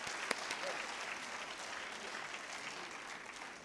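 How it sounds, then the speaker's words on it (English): Applause from an audience at a live talk event, a steady wash of clapping lasting the whole stretch at moderate, slightly distant level, with no talk over it. "Give him a good round of applause"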